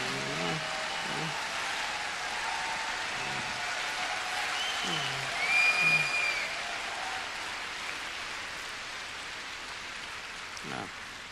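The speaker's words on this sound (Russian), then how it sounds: "Let's give them a big hand." Audience applause fills the room, a steady broadband clatter of many hands clapping for several seconds, with a few faint voices and a brief whistle rising over it partway through.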